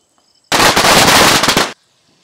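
A string of firecrackers bursts during an outdoor village Diwali celebration, a dense, loud, continuous crackle of rapid pops lasting just over a second before it cuts off abruptly into quiet.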